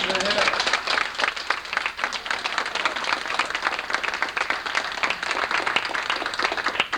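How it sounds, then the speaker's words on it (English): A steady round of applause from people gathered at a family reunion fills the room, many hands clapping continuously at moderate volume, with some talk mixed in. "I make the motion that we give him a round of applause for that"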